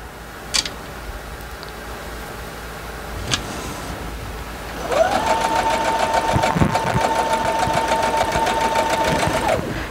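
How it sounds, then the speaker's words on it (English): Sewing machine running a chain stitch, starting after a few faint clicks and then whirring steadily and fairly close with a fast mechanical rhythm for about five seconds, with no talking. "And watch me just do chain stitching."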